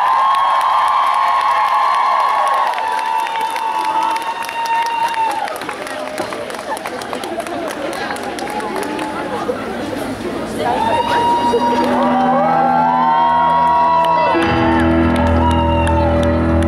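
A crowd at the outdoor opening concert of a fan zone cheers, shouts and applauds as an instrumental band from Ternopil is welcomed onstage. The loud, sustained roar continues throughout, with an announcer's voice briefly over it.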